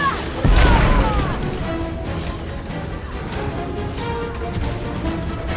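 A burst from an explosion in the Guardians of the Galaxy video game, a sharp loud boom near the start that decays into a sustained rumble with crackling debris and game music underneath.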